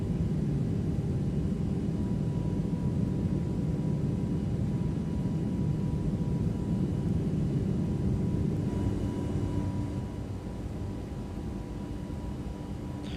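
An Airbus A321neo jet rolls for takeoff in a flight simulator, a steady broadband engine roar with low rumble that holds level and eases slightly near the end, with no voices.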